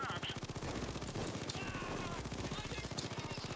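Gunfire aimed at the player during a bank robbery in the video game PayDay 2: a quiet, rapid, evenly pulsing automatic rattle that runs nonstop, mixed with talking and other game noise.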